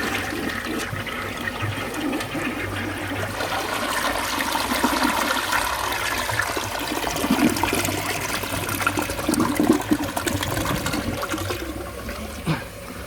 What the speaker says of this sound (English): let's see if the rag comes out on this flush